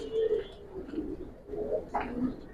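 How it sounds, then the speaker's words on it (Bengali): Khaki Giribaz pigeons coo softly at close range, a series of low, throaty rolling coos in uneven bursts, with faint chirps mixed in and a little background noise. "এগুলা খাকি কবুতর"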